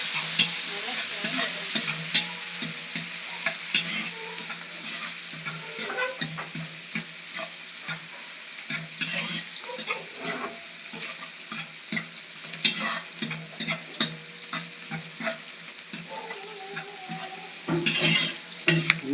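Sliced onions fry in oil and are stirred in a pan for biryani. A steady loud sizzle runs throughout, broken by repeated scraping and clinking of the spoon against the pan, with no talk.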